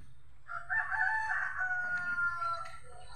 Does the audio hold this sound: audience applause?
no